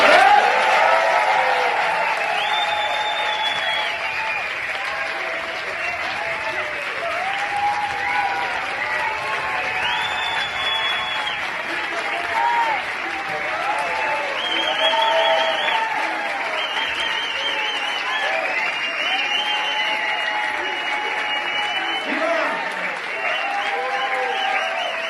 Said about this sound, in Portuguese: essa galera vai bater uma salva de palmas para Julian